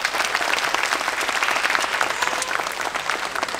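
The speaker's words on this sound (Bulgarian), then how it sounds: "аплодисменти за нея." Dense audience applause at a Plovdiv tribute concert, steady and full for the whole stretch with no talking over it.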